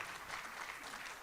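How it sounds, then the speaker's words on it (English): An audience at a diversity talk gives a round of applause for culture and identity centers, a dense, steady roar of many hands clapping that sounds fairly distant and carries evenly from start to end. "can we give our culture and identity centers a round of applause?"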